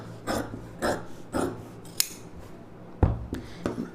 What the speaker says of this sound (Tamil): இந்த அளவு வச்சுட்டு இந்த ஷேப்புக்கு அப்படியே கட் பண்ணிடுங்க